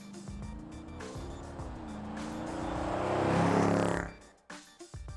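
A 2018 Dodge Durango SRT drives hard, its engine rising in a sustained roar with tire squeal building to a loud peak before cutting off abruptly, followed by a few short bursts and pops. No talking.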